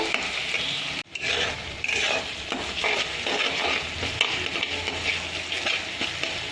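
Ginger garlic paste frying in a pan for a kachki fish curry, a steady close sizzle with stirring scrapes, loud and continuous throughout, with one brief dropout early on.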